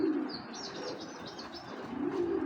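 Racing pigeons in a loft, a 2016 Bold-line hen among them, give soft repeated low coos near and clear, with fainter chirps above.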